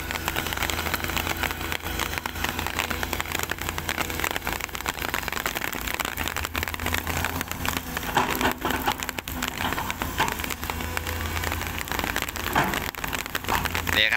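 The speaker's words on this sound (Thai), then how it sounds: "หนักแล้วครับฝนมาหนักแล้วครับตอนนี้ครับ" Heavy rain pours down on a pond dredging site at the edge of a village, making a dense, constant hiss with a low mechanical rumble underneath.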